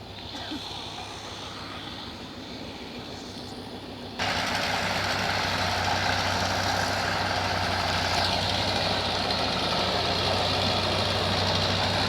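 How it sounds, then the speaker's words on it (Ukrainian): A foresters' truck idles at a forest logging clearing with a steady, moderately loud engine drone that steps up in level partway through and then holds constant. "Машина, на яку приїхали дані лісники."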